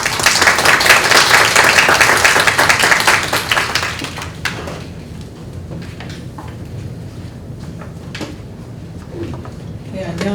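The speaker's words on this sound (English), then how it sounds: "Let's welcome Si-Yeon Lee with a warm round of applause." Warm applause from a conference audience welcoming a speaker, dense and loud for about four seconds before thinning into scattered claps, shuffling and small room noises.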